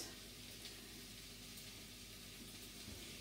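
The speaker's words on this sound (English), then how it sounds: "I'm going to pop the celery and the peppers in first and give them about a minute or two of cooking" Celery and peppers fry in a pan for fried rice, giving a soft, steady sizzle that hisses continuously as they are stirred, faint and without voices.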